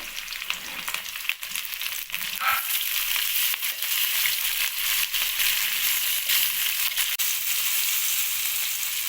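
Green chillies and tomato frying in a pan for semi upma, a steady close sizzle running throughout with faint stirring scrapes and small crackles, no voices.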